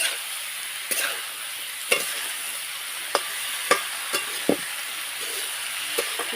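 Food being stirred and mixed in a pan while cooking puri bhaji, with spices, turmeric and salt added: a run of sharp scraping clinks and knocks at an uneven pace over a steady soft hiss.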